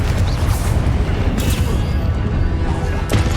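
Blasting-spell explosions in the Hogwarts Legacy video game, dense booming bursts over a constant roar of combat noise, loud and close.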